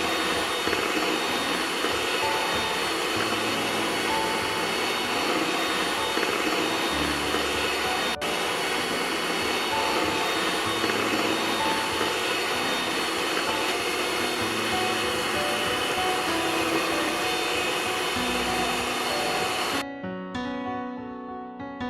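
An electric hand mixer beats pineapple cake batter with powdered sugar, giving a loud, steady motor whir that runs unbroken for about twenty seconds before it cuts off near the end.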